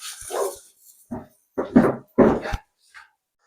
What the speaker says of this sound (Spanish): vivo en el campo y tengo aquí los perros, han venido las ovejas y hay algo de ruido